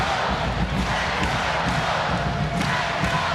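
Volleyball crowd roaring steadily through a close, tense match, a dense, loud wash of cheering voices with faint thumps and no pauses.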